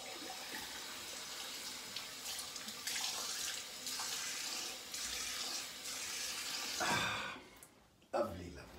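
Cold water runs from a tap into a sink after a shave, with a steady hiss and splash that continues for several seconds before cutting off, followed by a brief splash.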